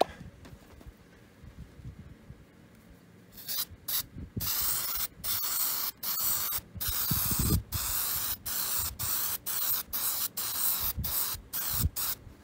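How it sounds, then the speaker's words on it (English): A can of spray adhesive hisses in a string of steady bursts separated by short pauses, close and fairly loud, after a quieter stretch of handling noise, while patching a canvas wall tent. "I just got a can of spray adhesive that I use"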